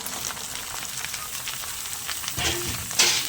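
Potatoes and shrimp fry and sizzle in a pan for lau chingri, a steady crackling hiss with scraping stir strokes and a louder clatter near the end.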